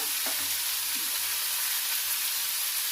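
Tomato and other mint chutney ingredients fry in oil in a pan, giving a steady, close sizzling hiss with a few soft stirring sounds underneath.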